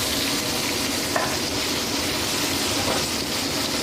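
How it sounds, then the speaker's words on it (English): Garlic chicken pan contents are tossed over the heat and come to a fast boil, a dense, loud, unbroken hiss and bubbling sizzle with a faint knock of the pan near the start. "We're going to give this a toss. It's going to boil real fast."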